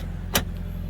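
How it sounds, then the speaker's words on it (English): Power trunk lid of a 2018 Lexus LS500 closing, a single brief soft thud with a short whir, close by over a steady low idle-like hum. "You can let the trunk down right there, and it does its thing."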